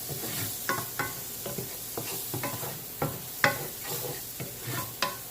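Onion and scallion cook in a chicken vegetable stir fry, making a low, steady sizzle as a utensil scrapes and taps the pan in a loose, repeated rhythm.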